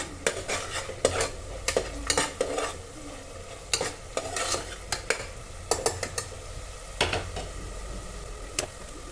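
Tomato bath masala with mint frying in a pan, a spoon clattering and scraping against the metal in frequent irregular strokes over a steady close sizzle, with no voices.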